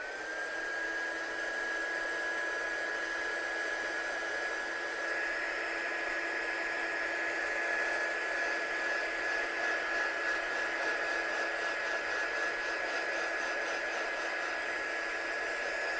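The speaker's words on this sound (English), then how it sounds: "I'm just going to give that a quick blast with a heat gun just to make sure that's all dried" A handheld heat gun blows steadily and continuously while drying a handmade watercolour pop-up card. It gives a constant, close, whooshing airflow with a thin whine and no talking.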